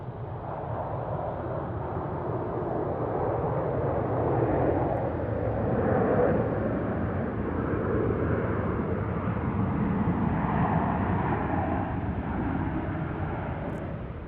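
Broadband engine roar from an airplane landing on a wheelie at Tucson airport, home of F-16 Vipers, a steady loud rumble sustained throughout with no talk over it.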